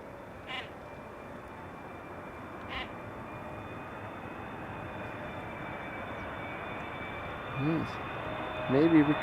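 An aircraft coming in to land at Amsterdam Schiphol Airport gives a steady, broad engine roar that builds slowly from a distance, with a few faint brief noises from nearby over it.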